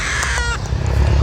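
A crow gives a loud, close caw followed by a short harsh second call, then low rumbling background noise.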